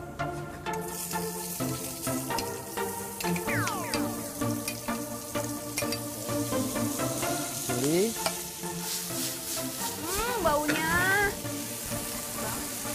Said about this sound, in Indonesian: Nah, kita akan tumis onions